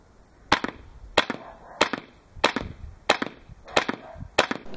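A G&G CM16 gas blowback airsoft rifle fires in rapid bursts, seven sharp cracks spaced about two-thirds of a second apart, each loud, close and clean, with no talking.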